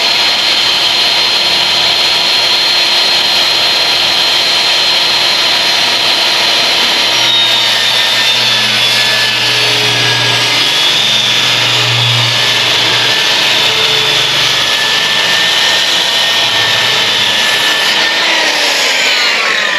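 Small grinder trimming the edge of a fiberglass mold, a steady high-pitched whine with shifting tones and a low droning hum throughout, loud and close with a fan running nearby.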